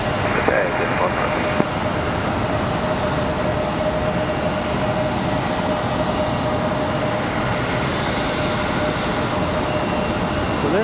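A Mesa Airlines United Express regional jet in from Houston at Charlotte airport gives a loud, continuous broadband engine roar that stays steady from start to finish without letup.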